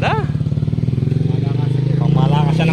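A motorcycle engine thumps with a fast, steady pulse up close on a morning ride around Clark Field, Pampanga, running continuously under nearby talking voices.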